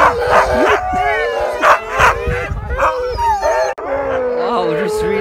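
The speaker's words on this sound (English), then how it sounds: "Look at these husky dogs." A pack of husky sled dogs at a dog sledding site in Latvia, howling and yipping loudly up close in a wavering chorus, with occasional barks and whimpers mixed in.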